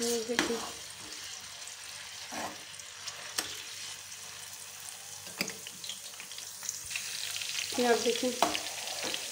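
Garlic frying in hot oil for tempering moong daal, a soft continuous sizzle with occasional stirring clinks, growing slightly louder toward the end as someone speaks briefly.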